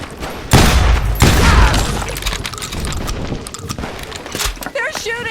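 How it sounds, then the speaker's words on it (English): Heavy gunfire crackles through a street shootout in the video game Call of Juarez Gunslinger, with loud bursts of shots and booms up front while voices shout over the fighting. "They're shooting in the street!"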